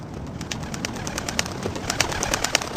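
Pigeons coo and chirp through a steady outdoor ambience, a dense flutter of short repeated bird calls rising above a low background rumble, moderately loud throughout with no speech.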